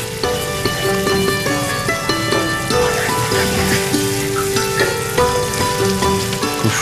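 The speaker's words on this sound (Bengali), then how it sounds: "হ্যাঁ ফুটতে শুরু করেছে" A pot of chicken and bamboo shoot curry bubbles and spits in a continuous, moderately loud simmer. Steady tonal background sounds run underneath it.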